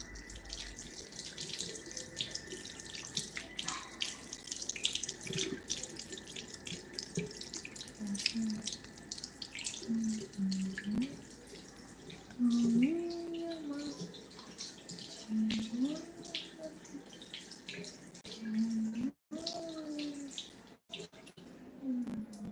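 Water runs from a tap during handwashing, a soft continuous trickle heard at moderate distance, with a voice speaking over it at times.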